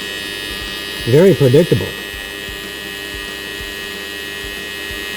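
Miller TIG welder arc controlled by a wireless foot pedal, a steady electrical hum throughout, with someone briefly speaking over it.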